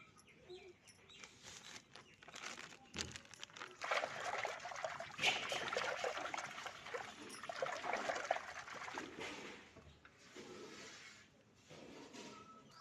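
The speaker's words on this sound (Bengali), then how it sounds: "তো আমার এখন জামা কাপড় আছে অনেকগুলো, আমি ওইগুলো ভিজিয়ে নেবো।" Water trickling and pouring as a load of clothes is soaked, a steady close dribble that swells in the middle and eases off, with birds and a dog faintly audible in the background.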